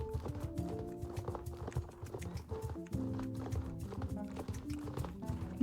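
Horse hooves clip-clop in a quick, steady rhythm of sharp taps, close by and fairly loud, with a low droning tone running underneath.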